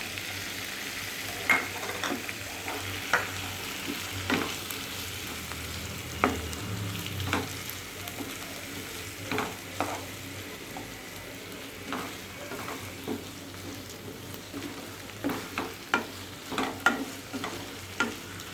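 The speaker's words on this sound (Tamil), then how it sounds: "இஞ்சி பூண்டு பேஸ்ட்டுக்கு அப்புறம் தக்காளி போட்டு வதக்கிக்கலாம்." Tomatoes sautéed in a pan after ginger garlic paste, a continuous soft sizzle with frequent irregular spoon scrapes and taps near the pan, alone with no voices.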